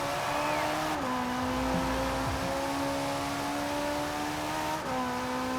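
A stock Ferrari driven in Forza Horizon 4 holds a steady high engine drone with tyre noise, pitch dipping briefly around the one-second mark and again near the end as gears shift, running continuously with no talk.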